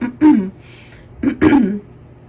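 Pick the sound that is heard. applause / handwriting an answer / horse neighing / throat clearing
throat clearing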